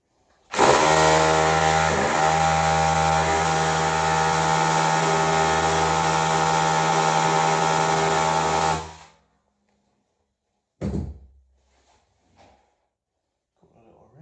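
A power drill in hammer mode runs loudly and steadily for several seconds, then stops; a short thud and faint handling noises follow.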